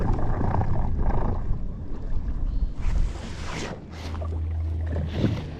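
A powerful electric motor on a Shearwater kayak runs in reverse across open water, giving a steady low drone and churning splashes, with wind buffeting the microphone throughout.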